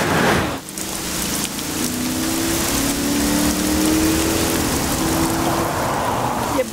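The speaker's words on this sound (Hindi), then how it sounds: "एक तो आज बारिश भी बहुत तेज है" Heavy rain pouring steadily, a loud, dense hiss of drops on surfaces that runs unbroken, with a low vehicle engine hum and a faint tonal drone underneath.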